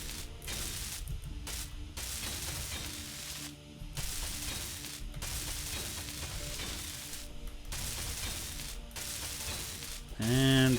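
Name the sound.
welding in video game Space Engineers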